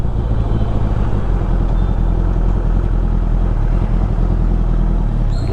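Morning road traffic on a ride out of Bangalore toward Kolar, with motorcycles and cars rumbling close by in a steady, loud engine drone that never lets up.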